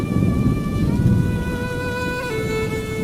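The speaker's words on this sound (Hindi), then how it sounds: "इतनी बारिश हो रही है" Heavy rain pours down steadily and loudly throughout, a dense continuous wash with a low rumble underneath that could be distant thunder, with no talk.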